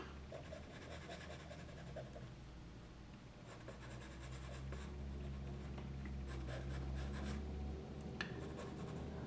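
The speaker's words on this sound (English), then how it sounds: "I'm going to use those white charcoal pencil" White charcoal pencil scratching and rubbing across paper during a sanguine portrait drawing, in soft intermittent strokes heard up close.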